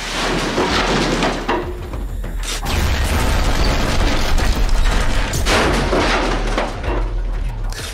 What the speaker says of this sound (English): the big beefy explosion in the actual